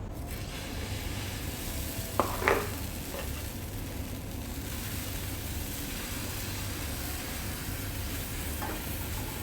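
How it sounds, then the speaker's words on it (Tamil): Millet-grain dosa batter frying on a nonstick pan, a steady soft sizzle with a couple of brief clinks or scrapes near the start. "நான்ஸ்டிக்கில் எப்போதும் எண்ணெய் தடவக்கூடாது. தோசை சுற்றிட்டு மேலே வேணால் எண்ணெய் விட்டுக்கலாம்."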